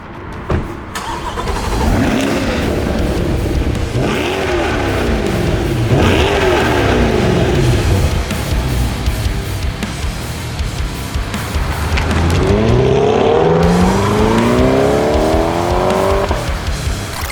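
A 2022 Chevrolet Corvette Stingray C8 mid-engine sports car revs and shifts through gears as it accelerates down the road, rising and falling pitch sweeps, loud and continuous throughout.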